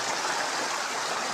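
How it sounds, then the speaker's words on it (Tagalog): A small river stream flows steadily nearby with an even, continuous broadband rush of water and no other sounds. "Maliit lang tong ilog na to."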